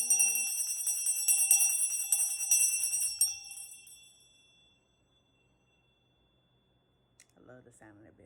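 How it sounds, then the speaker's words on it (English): A high metallic bell rings with repeated dings that shimmer and fade into silence, then a voice begins speaking near the end. "I love the sound of that bell."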